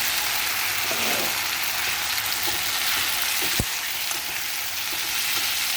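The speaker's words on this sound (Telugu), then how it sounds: "ఇది పులుసు కూర కావలసిన గ్రేవీ కోసం వేయిస్తూ ఉన్నానండి" A gravy base for fish curry fries in a pan with a steady, close, rain-like sizzle, broken by a couple of faint taps and one sharp knock near the middle.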